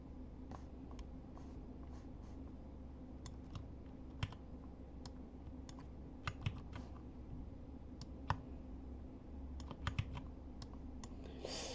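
Keys tap on a computer keyboard while shortcuts are entered during After Effects editing. The light clicks are quiet and irregular, coming in small clusters over a low background hum.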